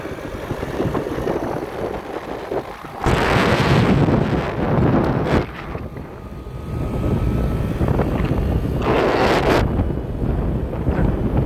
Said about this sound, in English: The wind is really picking up. That heavy wind.